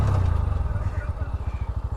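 A Honda Shine motorcycle engine running in second gear, a loud, close, pulsing mid-pitched exhaust drone with a steady throbbing rhythm.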